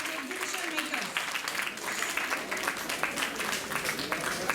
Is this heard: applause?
yes